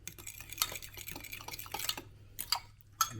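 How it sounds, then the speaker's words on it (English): Spoon stirring a yeast mixture for pretzel dough in a bowl, with scraping swirls, light clinks and a few sharper taps against the side, close and fairly quiet. "Stir it up a little bit"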